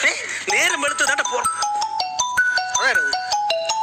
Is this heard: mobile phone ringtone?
yes